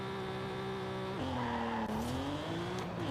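A cammed twin turbo Mitsubishi GTO in Forza Horizon 5 holding a loud, steady engine drone that drops in pitch and then climbs again through the gears, with a faint tire squeal and no talk.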